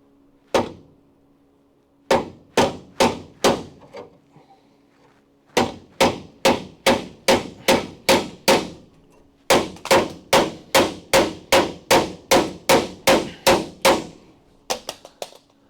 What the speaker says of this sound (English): Now the bigger one, sledge.